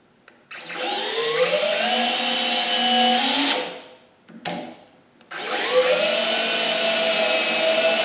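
A power drill with a small bit boring holes while installing bolt-on clevis mounts, a loud whirring motor that spins up, runs steadily, stops briefly, then starts again, close and alone.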